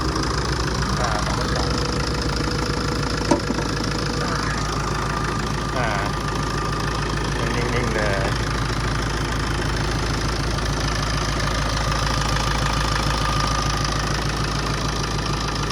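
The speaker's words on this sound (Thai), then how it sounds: "ฟังเสียงเครื่องกันดูนะครับ ตัวนี้เป็นเครื่อง 2002นะฮะโทรโบแปรผันนะฮะพร้อมมีเตอร์คูลเลอร์นะครับ" A Tata diesel pickup with a variable-geometry turbo and intercooler idles steadily at close range, a continuous low rumble with a faint ticking knock. Background chatter and noise sit under it throughout.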